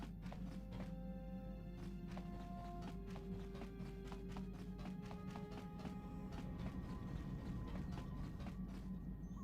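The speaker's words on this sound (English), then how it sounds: "You think you hear the soft patter of footsteps behind you" Soft, quiet footsteps patter in a steady rhythm behind the player in the Knights of the Old Republic video game, set aboard a ship. They sound faint and light beneath sustained tonal game music.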